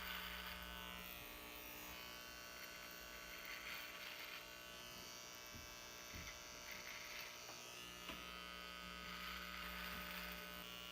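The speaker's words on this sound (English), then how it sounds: "this isn't the best shaver possible" Electric shaver buzzing steadily as it trims a long beard around the mouth and moustache, a continuous close-up whirring hum with small shifts in pitch as it moves over the hair.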